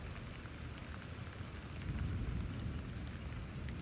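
Steady heavy rain pours during a 2 AM lightning storm in Houston, Texas, a dense continuous wash with a low rumble of thunder swelling partway through, with no voices.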